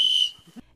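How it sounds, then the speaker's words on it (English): A single sharp whistle blast, loud and close, sounding steadily for about a quarter second before cutting off, followed by brief faint low thumps. "Blow your whistle."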